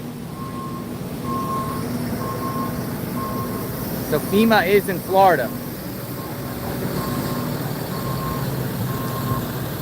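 A FEMA truck sounds its backup alarm amid storm damage in Tampa, Florida, after Hurricane Helene: evenly spaced reversing beeps repeat over steady street noise while someone talks in the middle.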